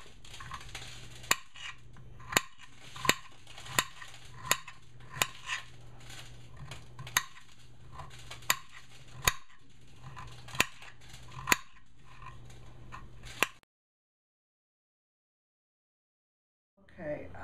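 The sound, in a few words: cutting up ingredients for chicken soup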